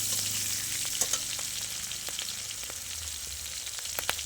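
Green chillies sizzle in hot oil with panch phoron while mixed vegetables are prepared, a steady close frying hiss with a few sharp crackles and pops.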